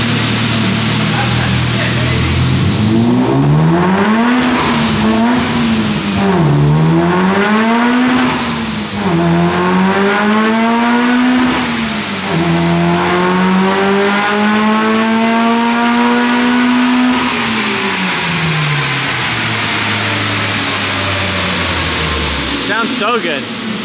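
Mitsubishi Evo on a dyno, engine revving hard through repeated pulls, pitch climbing and dropping in several loud sweeps before winding down at the end; a voice is heard over it.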